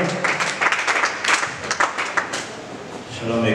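A church congregation claps and acclaims during a New Year wishes gathering, scattered rhythmic clapping under a speaker's voice, moderately loud and fading toward the end.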